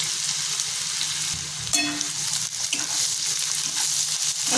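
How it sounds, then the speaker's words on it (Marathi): Chopped garlic and onions fry in hot oil, a dense, steady sizzle close up with occasional faint stirring clicks and no voices. "तेल गरम झालेलं आहे त्याच्यामध्ये लसूण टाकून घेते"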